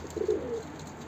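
A large male pigeon kept as a pet coos once with a low, throaty rolling call lasting about half a second, fairly close, followed by a quiet background.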